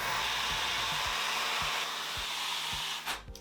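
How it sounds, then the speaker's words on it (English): A hair dryer blows with a loud, steady whooshing hiss while drying curly hair, with soft rhythmic thumps underneath, before switching off near the end. "I'm going to dry them. I'm using the Lathan dryer."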